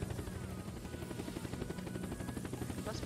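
Helicopter flying in the Unturned video game, a dense, continuous rotor chop with a rapid rhythmic beat, loud and close for the whole stretch.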